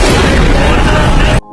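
A loud, dense roar of gunfire in an action revenge film blasts continuously and then cuts off abruptly into near silence.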